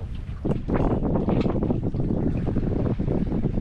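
Sailing yacht under main and genoa at about four knots during a June passage of the Strait of Gibraltar, with a steady, close wash of wind and water rushing past the hull and continuous wind buffeting on the microphone.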